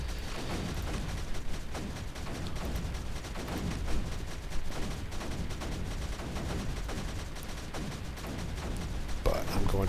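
Steady, dense barrage of pulse cannon fire in a video game, continuous rapid blasts filling the whole stretch with a heavy low rumble, loud and unbroken, with a player's voice mixed underneath.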